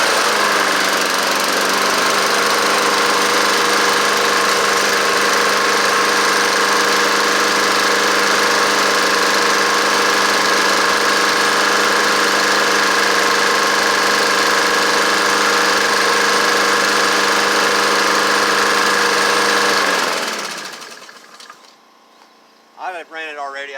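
A Honda lawnmower engine runs at a steady, loud, close idle with a buzzing mechanical drone for about twenty seconds, then cuts off abruptly, leaving a few faint handling noises.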